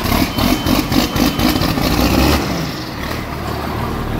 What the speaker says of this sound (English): If you guys like these cold starts, here's a 22-degree one